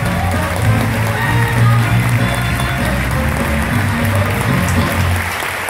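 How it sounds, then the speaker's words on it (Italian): Audience at an evening event applauding a guest named Giuseppe Cossu: a sustained wash of many hands clapping together, steady and full throughout, with faint crowd murmur underneath. "un applauso a Giuseppe Cossu"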